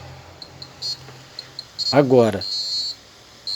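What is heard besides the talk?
climate control unit alarm beeping for sensor error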